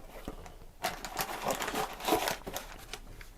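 Crinkly packaging being unwrapped from a parcel of guitar effect pedals, with bursts of crumpling and tearing plastic close to the mic, starting after a brief quiet moment.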